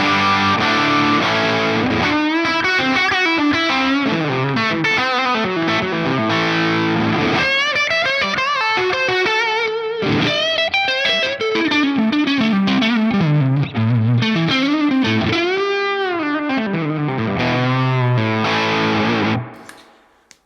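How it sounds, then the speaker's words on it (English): An electric guitar plays through a Laney amp switched to symmetrical mode, giving a heavily distorted, saturated lead tone; a continuous run of sustained notes and bends rings out loud and alone, fading out at the end. "if you switch this down into symmetrical mode, then we have way more distortion"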